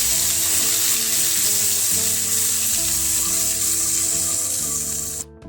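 Green chillies and spices fry in a pan for an aloo samosa filling, a steady loud sizzle with faint stirring scrapes beneath it, cutting off abruptly at the end.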